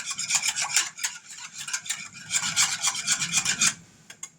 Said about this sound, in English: so we're just going to whisk it for a minute